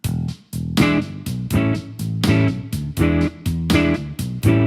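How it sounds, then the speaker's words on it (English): Strummed guitar chords played in a steady quarter-note beat, about eight even strums with short gaps between them, loud and close. "A rhythm guitar part that would involve just quarter notes would sound like this."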